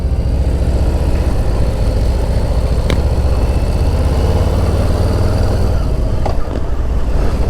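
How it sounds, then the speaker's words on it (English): A 2021 Harley-Davidson Softail Standard motorcycle idles with a steady, low exhaust rumble, fairly mellow rather than loud, holding an even throb throughout with a couple of brief clicks near the end. "The exhaust doesn't sound bad at all. It's got sort of a rumble to it. It's not a loud exhaust at all."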